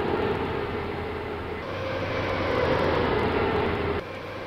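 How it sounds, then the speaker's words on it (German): A train in MS Train Simulator rolls through a station on a run toward Berlin Zoo, giving a steady, continuous rumble of wheels and carriages at an even level that eases off slightly near the end. "Und wir fahren durch den nächsten Bahnhof."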